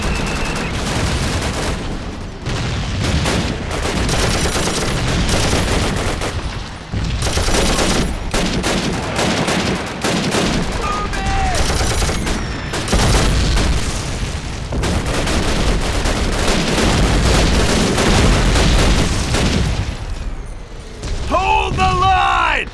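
Machine-gun fire in the World War II shooter Call of Duty, set at the Battle of the Bulge: sustained loud rattling bursts mixed with booming explosions and shouted voices, nearly continuous with only brief pauses.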